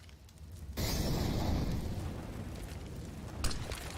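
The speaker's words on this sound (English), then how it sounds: "Grenades streaming into the B bomb site." Grenades bursting on the B bomb site in a Counter-Strike match on the Vertigo map, one heavy rumbling blast that swells up and decays over a few seconds, with a smaller thump near the end.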